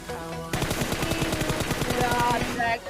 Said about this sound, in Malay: Tembak lagi Drax. Tembak saja di depan itu